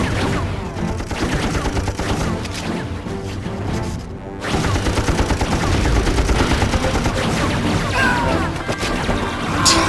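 Apocalypse video game combat: a dense, loud barrage of explosions and rapid gunfire, dipping briefly near the middle before surging back even heavier and continuing to the end.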